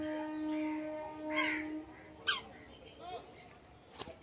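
Crows caw outdoors where insects are coming out for birds to eat, giving a few short harsh calls spread over a few seconds. A hum and faint talk sit in the background.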